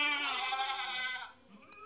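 Several goats bleat on a farm in a loud, wavering, overlapping chorus of nasal cries that fades briefly near the end before another bleat starts.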